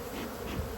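Honey bees buzz around a hive during an inspection, a dense, close swarm drone that holds steady and fairly soft with no voices.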